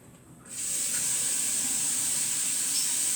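Tap water gushes into a pot for cooking fusilli, a sudden onset of steady, close hissing spray that runs on without a break.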